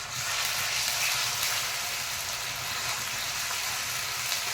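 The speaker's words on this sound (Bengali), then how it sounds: "এবার পেঁয়াজ আদা রসুন বাটাটা দিয়ে দিলাম" Onion, ginger and garlic paste sizzling in a frying pan after the onions have browned, cooking a crab curry: a loud, continuous, even sizzle throughout with faint stirring underneath.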